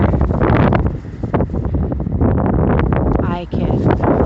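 Strong gusting wind blows across a microphone outdoors, a loud, continuous rumbling roar that surges and eases, with a person talking over it.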